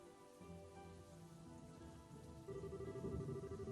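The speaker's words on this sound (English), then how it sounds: "It's raining!" Rain falls steadily in the game Trails in the Sky the 3rd, a soft continuous patter under a quiet background musical drone, swelling slightly louder toward the end.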